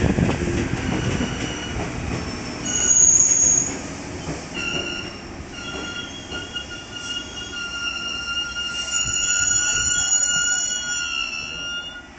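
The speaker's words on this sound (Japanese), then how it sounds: "はい、205系の1000番台到着いたしました。" A JR West Nara Line Series 205-1000 electric train pulls in with high metallic squeals from its wheels and a steady rumbling hum, swelling and easing as it slows.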